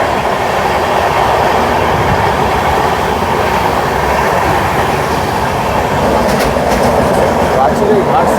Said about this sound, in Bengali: বাইরে বৃষ্টি হয়েছে আর পাহাড়ি রাস্তা, পাহাড়ি কার্ভের মধ্যে দিয়ে ট্রেন চলছে